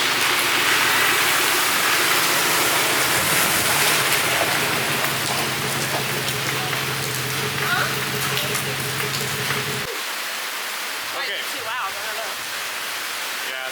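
Steady, dense rain causing flash flooding hisses down close by, with a low rumbling hum underneath that cuts out partway through, leaving just the rain.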